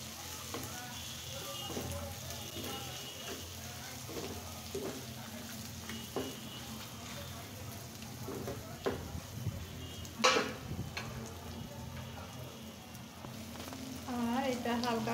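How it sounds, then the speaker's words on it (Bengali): Turmeric powder and salt frying in oil in a pan give a soft, steady sizzle with occasional stirring scrapes and one sharp clatter, while a voice talks over it now and then. "এখন আমি খুব সুন্দর করে এটা ফ্রাই করে নেব"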